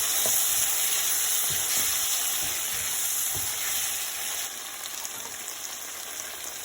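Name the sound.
chilli chicken with ketchup and soy sauce frying, stirred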